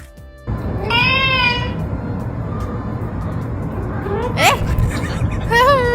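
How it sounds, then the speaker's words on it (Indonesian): A cat meows in drawn-out, pleading cries, with one clear call early, a sharp one midway and another at the end, over a steady background rumble. "Masih ngeong kayak minta banget dilihat"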